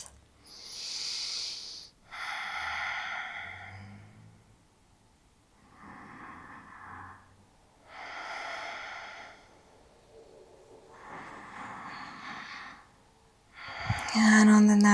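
Slow, deep breaths held during a yoga stretch for back relief, with several long inhale-exhale swells spaced a few seconds apart, close and soft, ending in a brief rustle.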